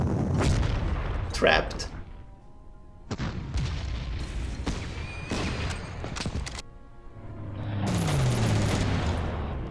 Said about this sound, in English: Wow, okay, more guns in the background.